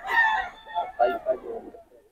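A stag rooster, a young gamecock from a farm, crows once in a drawn-out, descending call that trails off over about two seconds, fairly close and moderately loud.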